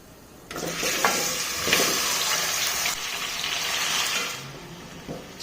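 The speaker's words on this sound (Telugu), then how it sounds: "చికెన్ మంచిగా ఫ్రై కావాలి, వాటర్ అన్నీ వెళ్ళిపోవాలి" Chicken hitting hot oil with cardamom, cinnamon and cloves in a pan, a sudden loud rushing sizzle that holds steady for about four seconds with a few stirring knocks before easing off, close-up with no voices.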